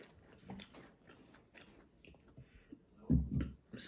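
Close, quiet chewing of a crunchy snack bought from Costco, with irregular bites and crunches that build to a louder burst of crunching near the end. No one speaks.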